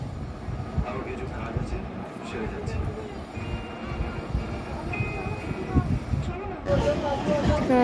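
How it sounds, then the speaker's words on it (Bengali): Passengers riding a train bound for home, a continuous low rumble and rattle of the carriage with faint squeals, heard under people talking nearby. "ট্রেনে করে যাচ্ছি সবাই।"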